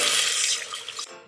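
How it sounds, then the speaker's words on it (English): About a liter of water pours steadily into a cooking pot of fried garlic, onion and spices, a bright continuous splashing stream that stops near the end, with no talking. "Then add in about a liter of water,"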